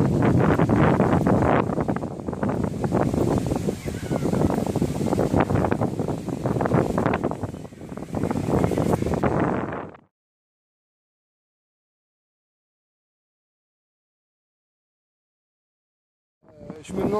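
Heavy wind buffets the microphone with loud rumbling gusts for several seconds, then cuts to silence before the roar briefly returns, outdoors while playing Pokémon GO.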